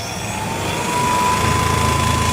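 An electric bike fitted with added water cooling accelerates, giving a steady motor hum with a thin whine that grows slightly louder over the run.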